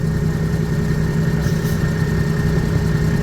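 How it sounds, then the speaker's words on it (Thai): A 6UZ engine rated at 360 horsepower, mounted on a rotary tiller tractor, idles steadily with a continuous low rumble and an even mechanical hum throughout, close and moderately loud, with no talking. "นี้น่าจะเป็น 6UZ ครับ เครื่องยนต์ ของทายสมพง์การช่างครับ"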